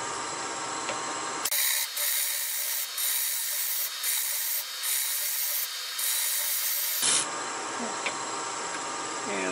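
A bowl gouge tool handle is shaped on a wood lathe as the turning tool cuts the spinning wood, a loud, close, continuous shaving hiss that starts abruptly and stops after about five seconds, with faint hum around it.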